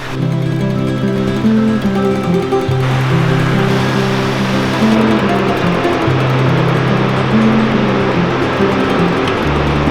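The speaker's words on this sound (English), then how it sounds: "These waves still come up pretty high." Surf rolls into a small protected cove on the North Oregon coast in a continuous, loud rush of water, with a low steady drone underneath and no talking.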